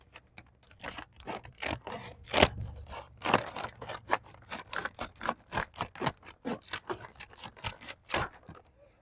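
Multi-function trauma shears cut through paper in a quick rhythmic series of crisp snips and crunchy tearing strokes, close and clear, with no talking.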